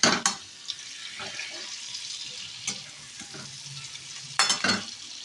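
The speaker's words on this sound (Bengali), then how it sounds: "এভাবে এটাকে খুব ভালো করে কষিয়ে নিতে হবে।" Spices sautéing in oil with sugar for cauliflower dalna, a steady sizzle under repeated stirring scrapes, with sharper clanks of the utensil against the pan near the start and again toward the end, no speech.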